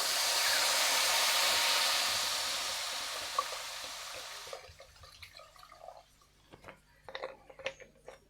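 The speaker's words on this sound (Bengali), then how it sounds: "এবার দিয়ে দিচ্ছি জল।" Water poured into a pan of egg and potato curry, a loud continuous hissing rush that fades after a few seconds into scattered small clinks and drips.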